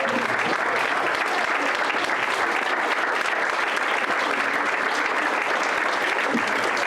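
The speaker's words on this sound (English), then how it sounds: "let's have a massive round of applause for Wally Downs and Glyn Hodges." Fans at an AFC Wimbledon supporters' event give a sustained, dense round of applause for Wally Downs and Glyn Hodges, steady and loud throughout with a crowd filling the room.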